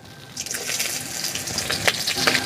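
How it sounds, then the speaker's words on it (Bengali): Whole cumin, cardamom, cinnamon and cloves frying in hot oil for a Bengali vegetable dal, giving a steady crackling sizzle with sharper bursts of spluttering, close and fairly loud, with no talking. "গোটা জিরে তেলের ওপর ফোড়ন দেব।"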